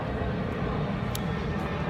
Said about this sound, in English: all the noise, planes and people walking by and geese or something.